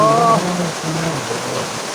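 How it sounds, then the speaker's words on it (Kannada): A waterfall on the Netravathi river, swollen by monsoon rain, gives off a loud, continuous rushing roar, with a short voice at the very start. "ಫಾಲ್ಸ್ ಮಾತ್ರ ಏನು ಸೈಕಾಗೈತೆ ನೋಡಿದ್ರು"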